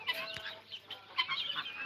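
Young chicks peep and cheep in a brooding setup inside a poultry shed holding a batch of about 425 birds, a quick overlapping chorus of high chirps heard up close, fairly faint.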